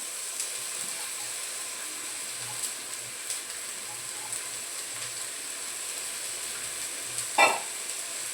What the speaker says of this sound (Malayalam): നല്ലതുപോലെ ഒന്ന് വഴറ്റണം.